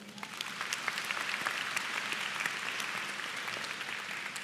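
An audience at a 2023 high school graduation ceremony claps steadily, a dense, fairly loud wash of applause that holds evenly throughout without letting up.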